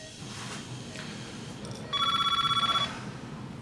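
A telephone rings in a tense medical drama scene, one burst of rapid repeated electronic trills that stands out loudly over a steady background hum.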